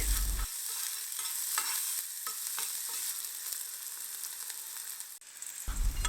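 Continuous hissing sizzle of a tempering frying in oil up close, with occasional crackles and pops, steady throughout and no talking.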